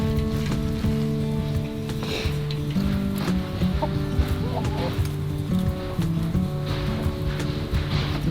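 A hen clucks intermittently close by among a flock of chickens, with light rain pattering in the background and a steady low hum throughout.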